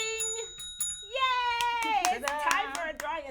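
A hand bell rings out for a prize drawing during a live show with a few bright metallic strikes, followed by excited voices and light clapping, with talk and bell overlapping.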